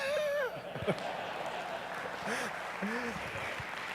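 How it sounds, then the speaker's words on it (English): Audience applause rises as a soft, steady wash of clapping, fairly faint, with a voice talking intermittently over it. "You can clap."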